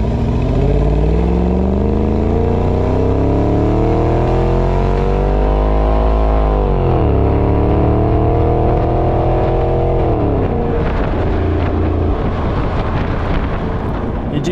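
A Jaguar XKR X150 with a 5.0 supercharged engine drones loud and close while driving, its tone dipping and climbing through gear changes, with wind noise mixed in and no talking.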